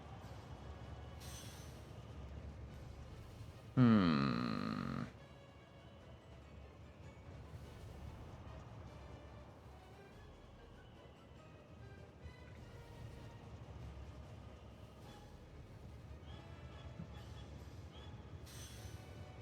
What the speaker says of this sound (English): I still don't know why the trains are taking one path over another